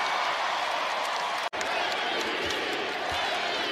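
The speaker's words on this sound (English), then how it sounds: "Being serenaded by the crowd then." A basketball arena crowd roars and chants MVP for Jalen Brunson, a continuous loud wash of voices with a brief cut partway through and a commentator talking over it.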